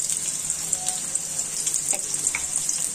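Chopped onion and garlic paste fry in a hot pan, giving a steady bright sizzle with small crackles and a faint stirring scrape, close and alone.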